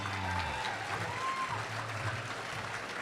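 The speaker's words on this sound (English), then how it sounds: "Big round of applause for Ken Timmerman." Audience at a conservative conference applauding a guest, steady clapping at moderate distance with some voices and a faint tonal hum underneath.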